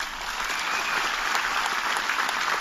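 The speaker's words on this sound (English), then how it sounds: "Give yourselves a big round of applause." Seminar audience at a mindset talk gives a steady round of applause, many hands clapping in a dense, even roar that stays constant from start to finish.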